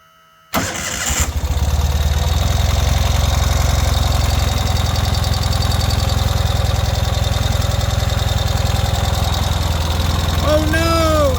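A 2021 Ural CT sidecar motorcycle engine cranks and catches after a brief silence, then settles into a loud, steady, close idle with a rhythmic beat, and a few chirping tones sound near the end.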